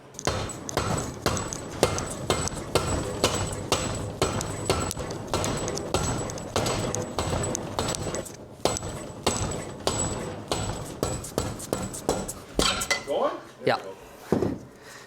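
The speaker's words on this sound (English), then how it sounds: "So then we can just pound out this axle shaft" A VW independent rear suspension axle shaft being hammered out of its arm during a Beetle pan swap: a long run of loud, evenly spaced metallic blows, fairly close, pausing briefly near the end before a few final irregular strikes.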